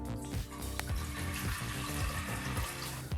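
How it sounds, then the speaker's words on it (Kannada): Half a litre of water poured into a pressure cooker while preparing a leafy greens soup, a steady, close splashing gush that runs unbroken throughout. "ಮೊದಲಿಗೀಗ ಒಂದು ಕುಕ್ಕರ್ಗೆ ಅರ್ಧ ಲೀಟ್ರಷ್ಟು ನೀರನ್ನು"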